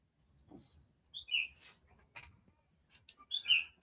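A large, loud crow-like bird with an iridescent blue head gives several sharp, squawking calls and chirps in short bursts, fairly close, separated by quiet gaps.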